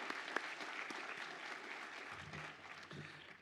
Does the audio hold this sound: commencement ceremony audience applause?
yes